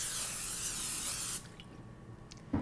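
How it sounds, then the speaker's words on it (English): Cooking spray hisses steadily onto a large skillet in a short continuous burst, close and fairly loud, then cuts off, leaving a few faint clicks and a soft clunk. "I'll spray my large skillet with cooking spray."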